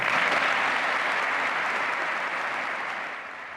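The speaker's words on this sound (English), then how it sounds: "the thunderous applause from Congress and all of the special guests" Thunderous applause from Congress and special guests fills the chamber during a Ronald Reagan speech, a dense, continuous roar of clapping that slowly fades toward the end.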